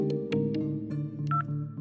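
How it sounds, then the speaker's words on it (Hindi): A mobile phone sounds off with an incoming call, a short run of bright electronic ringtone tones over a faint hum of background noise. "उसकी मां का कॉल आता है"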